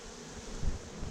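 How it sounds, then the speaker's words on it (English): A swarm of bees buzzes at a hive being cut out of a log, a faint steady hum with light rustling and no talk. "start pushing the bees, brushing the bees down into the hive"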